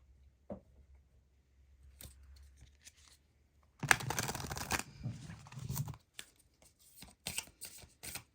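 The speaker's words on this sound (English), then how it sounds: "let's get you a card from the Isis Oracle" Isis Oracle cards are handled: quiet taps, then a loud riffling shuffle of about two seconds followed by sharper slaps and flicks as cards are drawn, close and with no talking.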